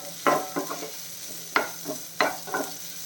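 Sliced onions sautéing in a pan over a flame turned down just below medium, for a Kerala fish molly, with a steady soft sizzle and several sharp spatula strokes scraping the pan at uneven intervals.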